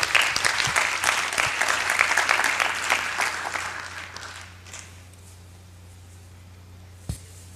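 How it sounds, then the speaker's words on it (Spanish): Applause from the audience at a public policy forum, dense and loud at first, then thinning and fading over several seconds into quiet, with one sharp knock near the end. "Un aplauso a Jordi Palet por sus tres políticas."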